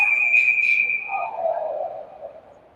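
A referee's whistle halts play at an ice hockey game: one long, sustained, piercing blast that fades as arena crowd noise continues underneath.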